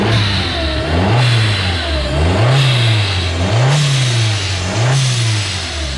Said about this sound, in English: so I'll give you guys a couple revs.